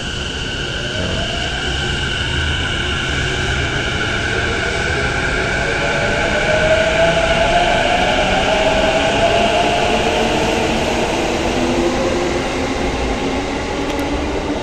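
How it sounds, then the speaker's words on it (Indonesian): Inside Shin Narashino station in Japan, a train rumbles steadily with a rising and falling whine of motors and wheels, a loud, continuous close mechanical drone filling the space. "saya sudah tiba di stasiun Shin Narashino ya"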